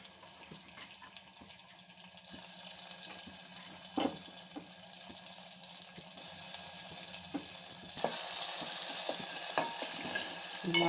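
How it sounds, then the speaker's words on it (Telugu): Crushed green chillies fry in a pan with a steady low sizzle, broken by scattered ticks and scrapes, and the hiss swells louder toward the end; no voices. "పచ్చిమిరం స్మెల్ పోయేంత వరకు ఫ్రై చేసుకోవాలండి"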